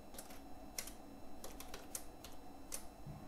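Keys clacking on a computer keyboard as code is entered, scattered quiet taps with brief pauses at an uneven rhythm, close and soft over a low steady room hum.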